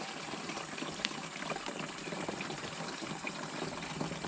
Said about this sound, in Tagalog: lagyan po natin tubig